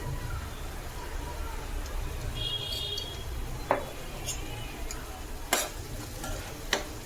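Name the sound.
onion and tomato sizzling in pan for paneer bhurji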